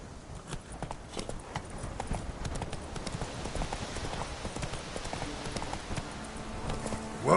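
Video game horse Roach galloping, a fast steady clip-clop of hooves running continuously at moderate volume, with no talk.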